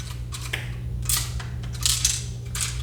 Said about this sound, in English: It actually does sound like a loose piece in there, though.